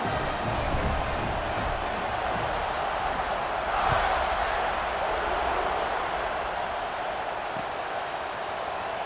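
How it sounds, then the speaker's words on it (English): Dense, steady roar of a football stadium crowd buzzing after a score in a Georgia versus LSU game, a continuous wash of distant voices with a brief swell in the middle. "this crowd is buzzing after that last score"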